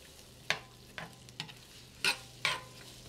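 Garlic and onion sizzle softly in a hot clay pot while a spoon knocks and scrapes through it in five sharp, separate strokes over a low, quiet background.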